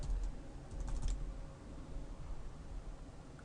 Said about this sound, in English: type in our password again